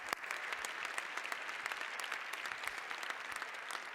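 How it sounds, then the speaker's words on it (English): Audience applause at a mentoring celebration evening fills the room with dense, steady clapping from many hands, close and continuous for several seconds. "So let's give a round of applause for all the people who are giving back to the community."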